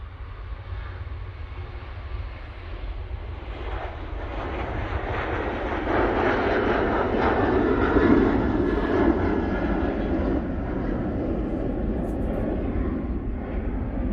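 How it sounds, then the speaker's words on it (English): A Ryanair jet takes off for Gdansk, its engines swelling into a broad, rising roar that peaks midway and then holds at a steady distant rumble. "There's a Ryanair going off to Gdansk."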